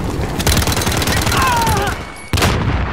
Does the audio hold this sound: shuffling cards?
no